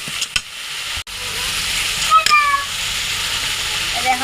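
Ground coriander, cumin, turmeric and chilli powders with ginger-garlic paste hitting hot oil in a pan for a fish curry, giving a steady close sizzle with brief stirring scrapes and a short gap partway through.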